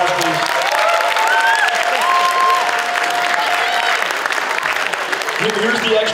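A concert audience claps steadily in a hall, dense sustained applause with a few whoops, while a voice speaks over it through a sound system.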